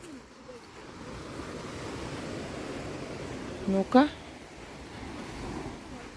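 Small sea waves wash steadily onto a beach in a soft, continuous surf hiss, with a brief spoken word near the middle.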